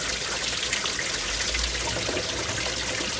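Spring water trickles and splashes steadily from a makeshift rock contraption on a mountainside near Moab, a constant close wash of water with no voices.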